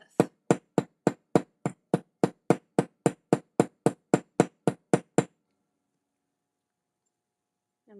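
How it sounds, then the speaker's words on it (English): A hammer strikes a thick metal flower jewelry component about fifteen times in a steady, even rhythm, each blow a sharp, bright ringing tap, before the striking stops and quiet follows. "I'm going to keep hammering,"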